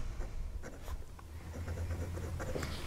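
A PENBBS 469 fountain pen writes on paper, its nib laying down a wet line of Robert Oster Soda Pop Blue ink. The result is a soft, continuous scratchy rustle with faint strokes, heard close and alone.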